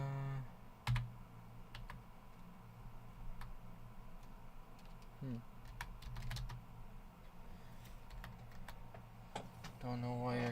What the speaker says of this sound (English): Don't know why our keyboard's doing that